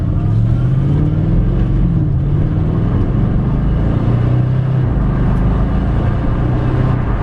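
A rebuilt Audi RS4 V8 engine rumbles loud and close during a test drive. It revs up and falls back in a few rising and falling swells over a constant deep drone.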